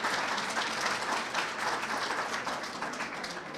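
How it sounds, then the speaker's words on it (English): A crowd applauds Representative Thomas at a senior fair event on property tax legislation, a dense, continuous round of clapping that holds steady throughout with no speech over it. "Can we get a round of applause for Representative Thomas for putting this great fair together?"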